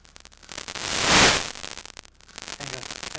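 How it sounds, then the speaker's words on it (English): A synthesizer module churns out grainy, crackling noise like vinyl surface crackle, swelling into a loud hissing wash midway before easing back to a sparser crackle, with no voices. "It sounds like vinyl crackling."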